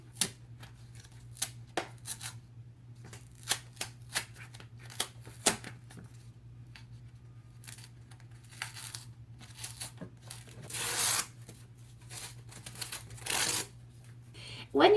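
A paper layer peeled off a piece of cardboard, a run of close, quiet tearing and crinkling rips, first in short separate bursts and then in longer pulls, over a low steady hum.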